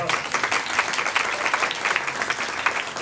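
An audience at a tech meetup applauds, dense crowd clapping that stays loud and even for the full three seconds.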